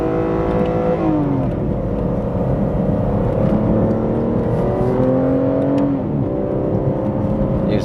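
A 2014 Aston Martin Rapide S, a 4,300-pound, 550-horsepower car, revs hard as it accelerates, its engine note climbing through gears with downshifts around 1 and 6 seconds, loud and close throughout with no talk.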